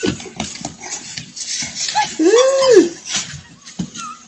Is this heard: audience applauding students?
no